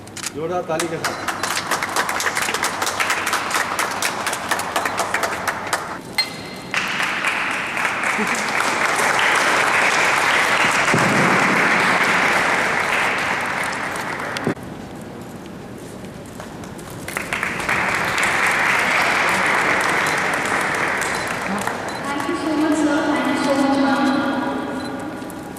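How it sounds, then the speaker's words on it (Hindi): Loud, sustained applause from a crowd at a school function fills the space, dipping briefly in the middle before surging again, with a voice breaking in near the end. "जोरदार ताली के साथ।"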